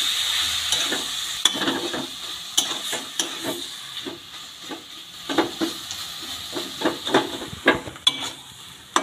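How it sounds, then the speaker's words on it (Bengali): Spiced cabbage for a vegetarian cabbage paturi being stirred in hot oil in a pan, a crackling sizzle with repeated close scrapes and clatters of the spoon against the pan, loud and steady with no talk. "খুব ভালো করে নেড়ে নেব।"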